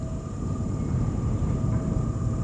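A Deeprun Tram in the World of Warcraft Classic game rolls along its track, giving a steady, low rumbling hum with faint tonal whine, continuous and even throughout with no voices.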